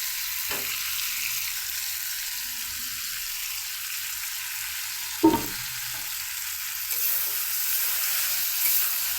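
Chapila fish with chili powder, turmeric and salt drops into hot oil in a pan, hissing in a steady sizzle with a brief crackling pop midway and the frying growing slightly louder toward the end.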